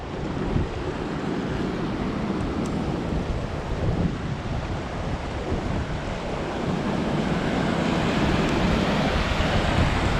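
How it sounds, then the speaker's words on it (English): A cold glacial river near Everest Base Camp in Nepal rushes past nearby, a dense, steady roar of churning water with no voices, holding constant throughout. "The glacier river coming from the Everest Base Camp."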